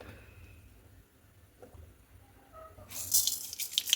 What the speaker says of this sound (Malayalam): വെളിച്ചെണ്ണ ഒഴിച്ച് കൊടുക്കാം